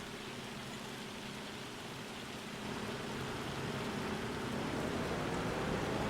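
Hail pelting down in Farming Simulator 25, a dense, steady hiss of countless impacts that swells slightly louder partway through, with no talk over it.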